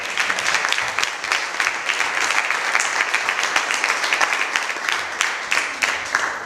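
An audience claps steadily, a dense patter of many hands throughout with no voices over it.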